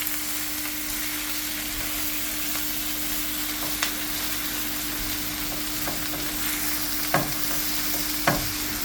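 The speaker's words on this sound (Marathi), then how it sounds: "बरे भाजून घेवपाचे हो मसालो." Masala with garlic, curry leaves and chili roasts in hot oil for Goan-style Chicken 65, giving a steady close sizzle and hiss with occasional scraping clicks of stirring throughout.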